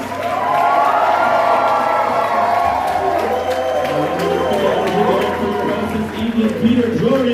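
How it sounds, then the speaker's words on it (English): A comedy club crowd at Tempe Improv cheers, whoops and claps loudly and continuously, with a host's voice speaking over the noise. "Go ahead and put your hands together for the new cast of the comedy"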